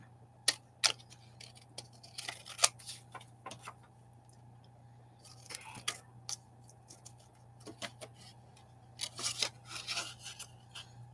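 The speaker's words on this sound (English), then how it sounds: "We're going to do scissors on that one." Scissors snipping through glossy magazine pages, a scattered run of crisp close cuts and paper rustles over a steady low hum, with quiet gaps between bursts.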